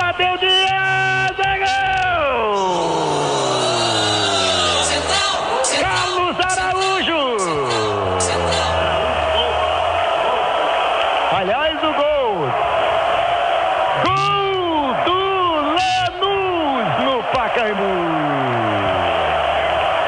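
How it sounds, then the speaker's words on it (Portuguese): Lanús supporters roar and celebrate a goal in the stands at the Paulo Machado de Carvalho stadium, a loud, steady crowd din under excited, continuous radio commentary with rising and falling shouts. "A torcida do Lanús faz a festa"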